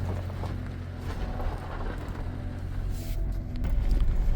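A car rolls over a heavily washboarded dirt road near Clear Creek Reservoir in Colorado, giving a steady low rumble with rapid rattling and jolts that swell louder toward the end, with no voices.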